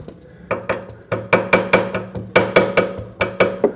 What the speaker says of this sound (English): going to take a hammer and gently tap it.